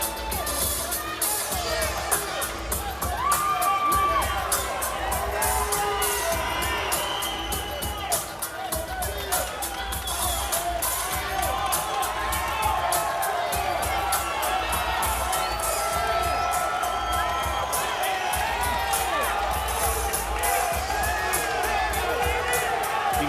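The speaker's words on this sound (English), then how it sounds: "in front of this raucous crowd that is packed one half of the Grand Garden Arena" Raucous crowd packing one half of the Grand Garden Arena cheers and roars steadily at a boxing weigh-in, a dense wall of whoops and shouting sustained throughout with no pause.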